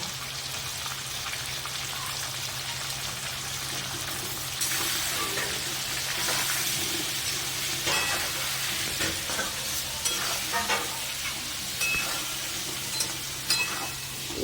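Potatoes frying with turmeric for a katla fish curry, a continuous crackling sizzle with a low steady hum beneath and repeated scraping stirs that grow busier midway through.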